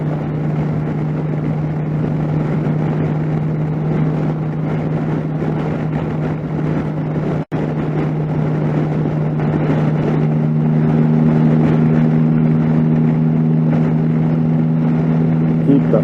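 Motorcycle engine held under steady throttle while riding, a continuous droning hum with a low steady tone and wind rush, broken by one brief dropout midway, with talk running over it.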